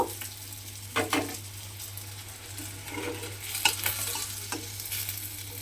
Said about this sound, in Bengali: সেই মাছগুলো এই তেলের মধ্যে দিয়ে একটু ভেজে নেব